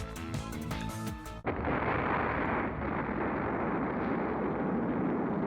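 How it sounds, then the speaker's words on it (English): Video game explosion in Robotics;Notes Elite: music cuts off abruptly and a massive, roaring blast takes over, sustaining a dense rumbling wash for several seconds. "the sound of a massive explosion erupts from behind me"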